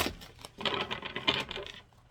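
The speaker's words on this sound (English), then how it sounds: "let's go ahead and give it one more shuffle here" A deck of tarot cards shuffled close by, a soft continuous riffling and rustling that swells through the middle and tapers off, with no voices.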